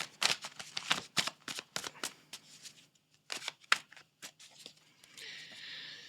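Tarot cards being shuffled by hand: a quick series of crisp riffling bursts and soft card slaps, close and fairly quiet, ending in a brief hiss.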